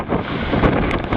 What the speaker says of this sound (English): wind gust coming down the canal on the other side of this island